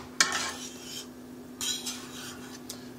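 Eggs, four in all, stirred and scrambled in a pan on the stove: a sharp scrape at the start, then soft scraping strokes in bursts with gentle sizzling and a steady hum beneath, no talking.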